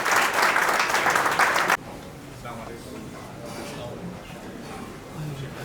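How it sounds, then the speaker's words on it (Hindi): An audience at a community meeting in Malwani, Malad West breaks into loud applause to welcome a guest, a dense burst of clapping that stops abruptly after under two seconds and leaves quiet room noise. "जोरदार तालियों से उनका स्वागत कीजिए।"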